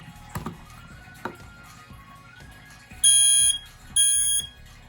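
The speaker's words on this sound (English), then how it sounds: "my smoke alarm." A KDM i910 smoke alarm under test gives two loud, piercing beeps, each about half a second long, after a few soft clicks and taps in a quiet room.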